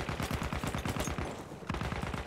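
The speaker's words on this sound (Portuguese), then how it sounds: "Tiro de tanque pra todo lado, galera." Rapid bursts of video-game gunfire and heavy tank cannon blasts from a Battlefield 1 battle, dense and continuous with rattling automatic fire throughout, fairly distant and unbroken, with no voices.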